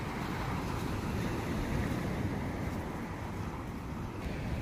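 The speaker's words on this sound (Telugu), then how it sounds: "చూడండి ఎంత మంచి అలలు" Pacific Ocean surf at the Shimizu seacoast, a constant broad roar of breaking waves and foaming water with wind noise, steady and unbroken throughout.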